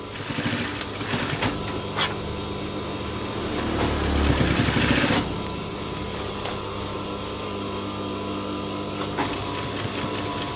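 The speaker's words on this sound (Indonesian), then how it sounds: "Kita jahit sampai ke bagian bawah." A sewing machine stitches down a jeans waistband seam, a steady mechanical whir with a louder, busier run in the middle and a few sharp clicks along the way.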